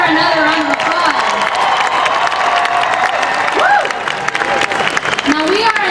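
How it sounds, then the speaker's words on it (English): At a Texas pro-life rally, a large outdoor crowd claps and cheers, with whoops and scattered shouts over steady applause while a voice talks through it. "Let's give her another round of applause."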